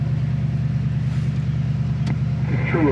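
A 1966 Ford Mustang convertible with a manual clutch runs while driving, giving a steady low engine drone throughout with a brief sharp click near the end.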